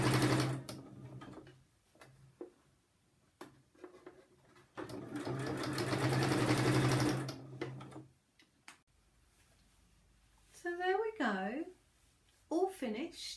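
A sewing machine stitches fabric bunting in rapid mechanical bursts, stopping and restarting several times with a long loud run in the middle, and a voice speaks briefly near the end.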